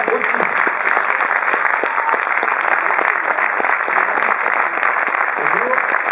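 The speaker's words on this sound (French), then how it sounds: "Oui, on peut l'applaudir aussi." An audience applauds the guest Hugues de Rosière at an adventure film festival event. The clapping is loud, dense and sustained, with a voice heard faintly underneath.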